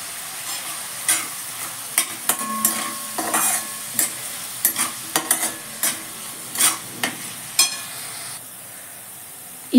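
Bitter gourd sabzi with homemade red chilli powder and ghati masala is stirred and sautéed in a pan, with a steady frying sizzle and repeated scraping strokes of a spoon at an irregular rhythm, close up, and no talking.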